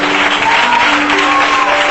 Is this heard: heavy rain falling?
no